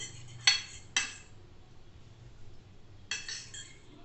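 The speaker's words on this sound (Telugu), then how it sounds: "ఫస్ట్ ఈ మూడింటిని మంచిగా కలుపుకోవాలి." Ingredients are mixed in a bowl for a quick snack recipe, with a few sharp clinks of a utensil against the bowl, two close together, then a pause and another pair.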